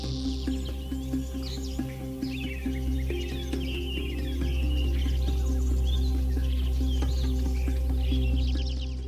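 Birds chirp and call steadily over a dense, constant insect drone, a lush outdoor rainforest chorus in Pù Mát, Vietnam, with no talking.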